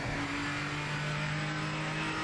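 A GT500 race car in the video game Project Motor Racing drones steadily at high revs, its engine note holding a continuous buzzing tone throughout with no voices.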